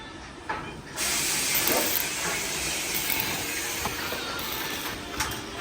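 A welding torch on a Matador van body under restoration, repairing holes in the panels, gives a steady broadband hiss that swells after the first second and holds near and fairly loud with small flares.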